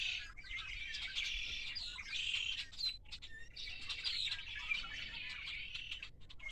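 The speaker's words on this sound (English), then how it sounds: "these are migratory birds. Listen to them." Flock of migratory red-winged blackbirds calling nonstop, dense overlapping chirps and trills at moderate distance with no talking.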